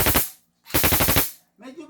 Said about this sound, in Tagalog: firing. Rapid fire.